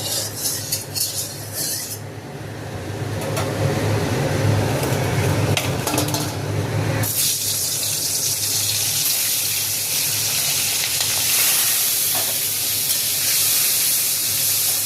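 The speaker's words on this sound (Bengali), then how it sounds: "এবার মাছের মুড়োটা ভেজে দেবো" A hilsa fish head hits hot oil in a wok, giving a sudden loud, sustained sizzling hiss that swells and then holds steady, close and uninterrupted, after a quieter opening with no voices.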